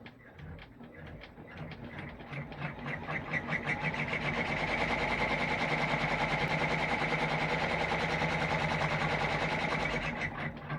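An embroidery machine stitches an appliqué peppermint snowman ornament, sewing the placement line, tack-down and satin stitch. Its rapid rhythmic clatter is close and loud and speeds up into a fast, even chatter that stops abruptly.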